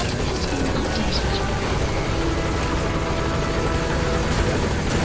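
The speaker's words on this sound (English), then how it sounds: "Support helicopter has arrived." A support helicopter arriving in the video game Metal Gear Solid 5: The Phantom Pain, its rotor chopping steadily and loudly overhead in a dense, continuous roar with no voices.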